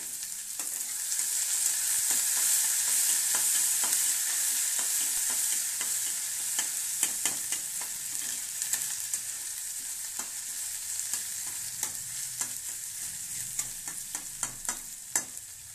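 Chana dal fries over medium heat in a pan, a strong continuous sizzle with rapid scraping stir strokes that grow busier and more clattery toward the end.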